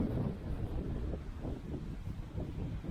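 Strong wind buffets the microphone beside Lake Morskie Oko, a continuous loud, gusty roar with rumbling low swells and no voices.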